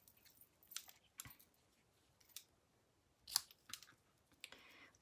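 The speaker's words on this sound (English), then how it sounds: "So we'll trim that there and there." Scissors trimming silky, shiny satin ribbon for a Christmas card, several quiet separate snips and clicks spread out with pauses between them, close and faint, with no talking.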